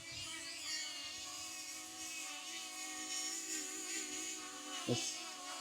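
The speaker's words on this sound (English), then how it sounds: "This funny squeaking noise coming out of it." A DJI Flip drone with prop guards gives off a high, steady whining hum with wavering squeaky overtones, near and continuous, with a brief low thump near the end.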